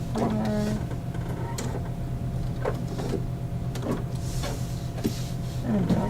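Sewing machine stitching through vinyl, a steady mechanical hum with a fast repetitive motor pulse running throughout, close and moderately loud, with small clicks and brief handling noises on top.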